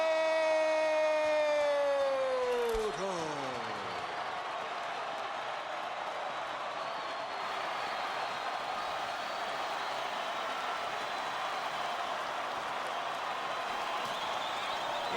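In a boxing arena, a crowd cheers for Miguel Cotto, the WBO welterweight champion from Caguas, Puerto Rico. A loud falling horn-like tone fades into a sustained, roaring wash of crowd noise that carries on to the end.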